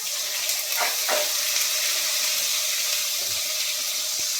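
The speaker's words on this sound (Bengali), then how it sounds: "লাউ করতে গেলে সর্ষে দিতে হয়, আমি সর্ষে ফোড়ন দিয়ে দিলাম। এবার এর মধ্যে আমি জিরে দিয়ে দেবো।" Mustard seeds and cumin sizzle in hot oil in a pan while a bottle gourd dish is being made, a steady, dense frying hiss throughout with a few faint crackles and no talk.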